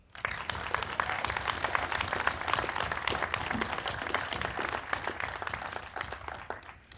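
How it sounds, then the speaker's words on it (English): Applause from a graduation ceremony audience, a steady wash of many hands clapping at a moderate distance, holding evenly for about seven seconds before trailing off. "Let's give a round of applause to Scott Yeager and Des Lasico for being awesome."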